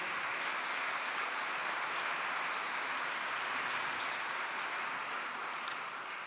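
Steady, dense audience applause fills the hall at a festival's opening ceremony, sustained without pause at moderate volume throughout.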